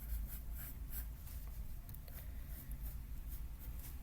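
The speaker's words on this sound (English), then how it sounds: "I'm going to start by drawing some fringe or just additional lines going in the direction that the hair is growing" A pencil strokes across paper in fine hair lines for a portrait drawing, a faint, close scratching of short repeated strokes that continues steadily throughout.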